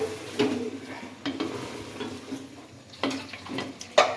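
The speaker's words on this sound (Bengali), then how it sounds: "রসুন আর আলু দিয়ে এখন গোশ ভাজি চলছে, মানে গোশের ভুনা চলছে" Beef bhuna fries with garlic and potatoes in a pot, a soft steady sizzle punctuated by a few sharp clanks and scrapes of a spatula stirring, heard up close without talk.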